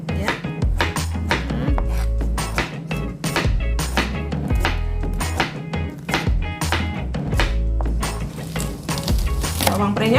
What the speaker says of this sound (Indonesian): Jagung mudanya juga saya potong serong-serong juga seperti ini ya